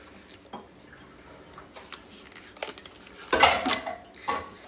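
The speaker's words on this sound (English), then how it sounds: "Look, she washes dishes." Dishes and cutlery clink and clatter while someone washes up, scattered light knocks building to a louder burst of rattling pots and utensils near the end, no talk.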